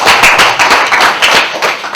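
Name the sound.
audience clapping for Daniel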